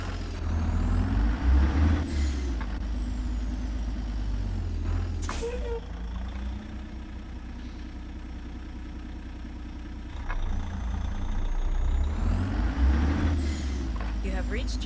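A Cummins X15 engine mod on a Kenworth T880 truck in American Truck Simulator rumbles steadily and close, swelling louder at the start and end, with a sharp air-brake hiss in the middle.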